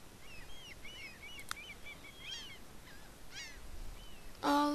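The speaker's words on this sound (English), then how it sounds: "Look at that seagull." Seagulls in the Sims 3 Island Paradise game give a series of short, rising squawking calls at moderate distance over a steady ambient background, ending with a louder burst of other sound.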